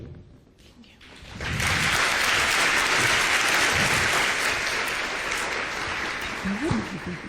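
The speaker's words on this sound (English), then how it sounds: "One more time, a round of applause for these young, amazing students." An audience at a school renewable energy competition breaks into loud, sustained applause for a student team's presentation. It swells after a second and holds steady, with a voice briefly audible near the end.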